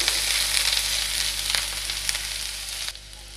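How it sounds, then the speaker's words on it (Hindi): Garlic, ginger and green chilli sizzle in hot oil in a pan for chilli paneer, a loud, dense, continuous frying hiss heard close up with no voices, easing slightly near the end. "तेल हमारा अच्छे से गर्म हो गया है अब हम इसमें डालेंगे हमारा लहसुन अदरक हरी मिर्च"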